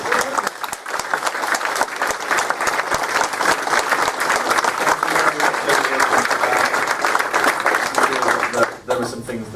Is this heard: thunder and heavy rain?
no